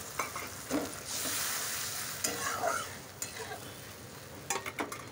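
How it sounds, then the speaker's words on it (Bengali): Mustard sizzles in a pan as water is added, a burst of hissing steam among scraping stirs and a few clinks of the spoon. "অল্প ভেজে নেড়ে চেড়ে এবার জল দিয়ে দিলাম"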